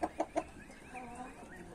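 A big, strong rooster gives three quick close clucks in a row, then quieter muttering follows over faint background noise.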